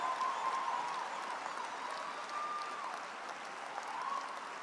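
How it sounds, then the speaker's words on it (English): Steady applause from a large audience at a university humanities graduation ceremony, continuous broadband clapping held at an even level throughout with no talk over it. "I thank you for the applause"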